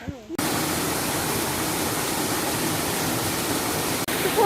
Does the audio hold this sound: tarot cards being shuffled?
no